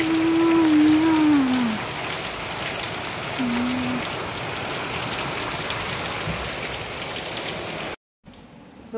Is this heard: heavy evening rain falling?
yes